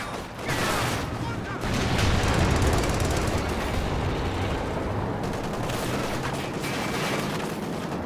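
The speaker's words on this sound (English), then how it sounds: "Incoming fire!" Incoming fire in a World War II strategy game match, with dense overlapping gunshots, machine-gun bursts and heavy impacts forming a loud continuous battle din, and voices calling out beneath it.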